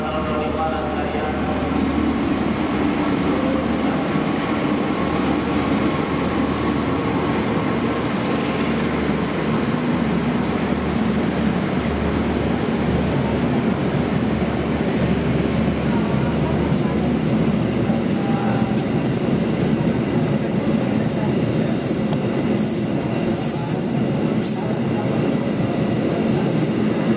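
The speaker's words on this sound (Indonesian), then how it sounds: "Barusan kereta api Argo Bromo Anggrek" Argo Bromo Anggrek passenger train rolling past for the whole stretch, a steady loud rumble of wheels on rails with clicking joints and rising metallic squeals toward the end, fairly close.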